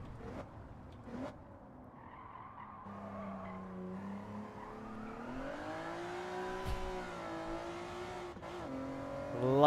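A Honda Type R engine in Gran Turismo 7 revs up with a rising, sustained tone, rough at first then climbing steadily, with tire squeal and skidding noises mixed in.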